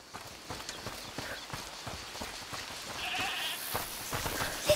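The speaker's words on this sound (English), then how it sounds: "Is that the goat he talked about?" A goat bleats faintly in A Plague Tale: Requiem amid busy background game noise and clattering hoofbeat-like clicks, with no talking.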